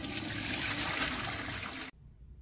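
Soaked liquid pours steadily through a strainer, a loud continuous rushing trickle that stops abruptly near the end.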